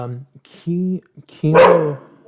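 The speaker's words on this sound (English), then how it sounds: "Viewers, please excuse the dog." A dog barking indoors, a few close, loud yelping barks in short bursts with a voice talking between them.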